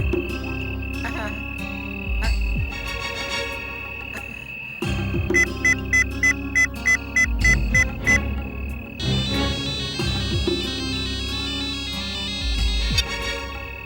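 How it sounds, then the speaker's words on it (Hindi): A telephone rings while a call is placed to a bungalow owner: repeated electronic ringing pulses over a busy, music-like tonal background, fairly loud and close. "इस बंगले के मालिक को फोन लगाओ, लगाओ"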